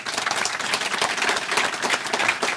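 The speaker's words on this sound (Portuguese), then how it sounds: "Uma salva de palmas, por favor." Audience applause at a Portuguese book presentation: a steady wash of many hands clapping at moderate volume throughout, with no voices over it.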